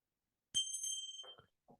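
A single bright bell strike marks the close of a group meditation session, ringing out clearly from silence with a sustained metallic tone that fades, followed by brief quiet sounds.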